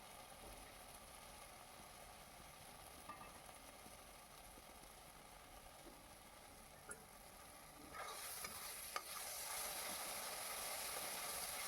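Spices frying in oil in a pan, a soft continuous sizzle and hiss that grows louder and brighter toward the end, with a few faint clicks, heard close with no voices.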